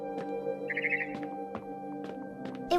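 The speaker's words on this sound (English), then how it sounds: "Then I heard chirping outside my window." A barn swallow chirps outside a window in the video game What Remains of Edith Finch, a short burst of quick high twittering over a steady ambient hum, with a few soft clicks around it.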